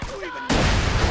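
Grenade blast in Borderlands 2 erupting abruptly after a brief lull, a loud, dense burst of explosive noise and gunfire-like crackle that fills the remainder of the moment.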